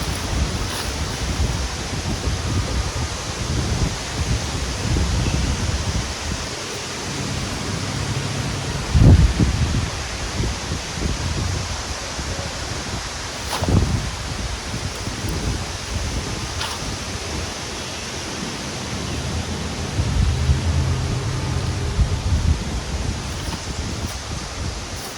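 Wind gusts through a backyard garden and patio, a continuous broad rushing with microphone buffeting and rustling, swelling in a few stronger gusts and with no talking.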